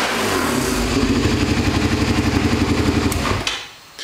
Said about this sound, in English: let you listen to it. It's a good sounding bike.